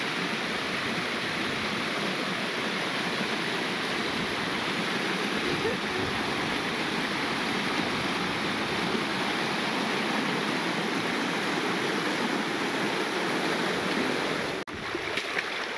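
Steady, close rushing of creek water flowing through Kanarra Creek canyon, a dense continuous wash with no voices.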